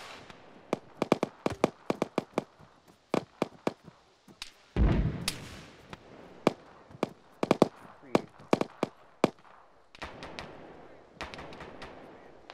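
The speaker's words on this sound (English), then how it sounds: "Gunfire." Scattered gunshots crack out in a military combat video game, sharp single reports and quick bursts at varying distances with one heavier blast in the middle, spread across the whole stretch.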